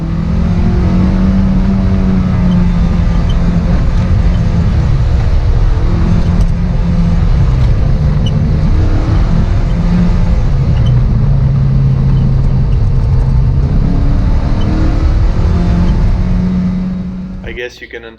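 A Toyota MR2 Spyder with its 1ZZ engine drives a winding mountain road through the Lavaux vineyards, its engine droning loud and steady with rising and falling revs, close and continuous until it fades at the end.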